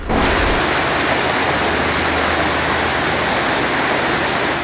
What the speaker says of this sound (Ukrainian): Після вже другої за кілька останніх днів зливи під воду знову пішла окупована Керч.